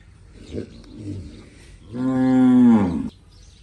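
A cow at a Friday cattle market lets out one loud, drawn-out moo lasting about a second, after some quieter shuffling and background noise.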